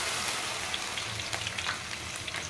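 Coarsely ground ginger-garlic paste spits and sizzles in hot oil for an Arvi masala, a close, even frying hiss with small crackles and no talking.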